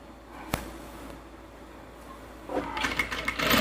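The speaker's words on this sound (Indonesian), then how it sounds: "Lalu kita jahit sekitar 3/4 cm." Sewing machine stitching a 3D fabric face mask, sewing elastic under the bias binding along a roughly 3/4 cm seam. A single sharp click comes first, then the machine's close, steady whirring stitch starts near the end. No talking.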